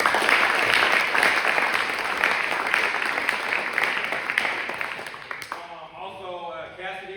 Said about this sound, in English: Give them a big round of applause, please.